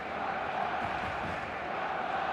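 Stadium crowd in the eFootball video game, a steady, dense roar of many voices filling the whole moment at an even level.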